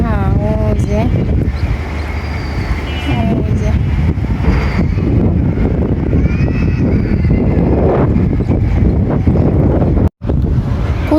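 Strong storm wind whooshes loudly and steadily throughout, with a rumbling low roar and gusty buffeting on the microphone, while voices talk over it.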